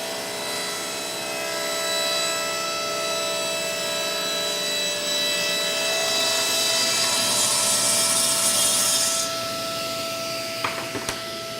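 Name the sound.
table saw cutting sapwood from walnut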